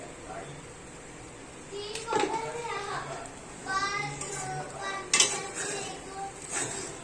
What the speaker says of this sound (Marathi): आता मीठ पण चांगलं मिक्स करून घ्यायचं आहे।